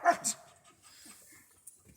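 Alaskan sled dogs bark and yip, with loud sharp barks near the start, followed by quieter scattered whimpers and faint yelps.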